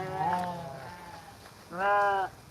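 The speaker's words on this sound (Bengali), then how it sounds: "খুবই শক্তিশালী একটি পাঠা।" A male breeding goat on a farm bleats twice nearby, loud and wavering, with a short pause between the cries.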